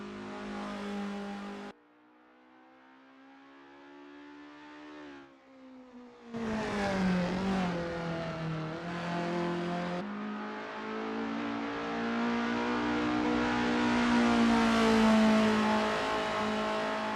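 An Isuzu Bellett GTR racing engine in Assetto Corsa, on a practice out lap at Sportsland SUGO, drones steadily and changes pitch through several gear changes, building to a loud, sustained rev. No one speaks.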